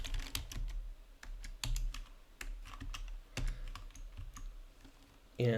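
Fingers type code on a computer keyboard in quick, uneven bursts of crisp key clicks with short pauses, close and fairly quiet, ending on a brief louder sound.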